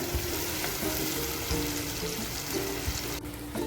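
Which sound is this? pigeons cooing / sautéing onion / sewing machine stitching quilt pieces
sautéing onion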